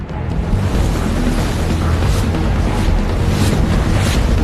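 Strong wind in Iceland roars steadily and loudly throughout, a continuous broadband rush with gusty swells and buffeting against the microphone, no voices present.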